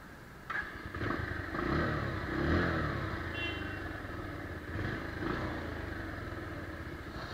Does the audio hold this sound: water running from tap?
no